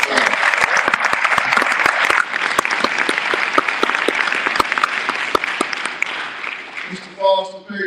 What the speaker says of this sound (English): So give Mr. Foster and his family a warm round of applause.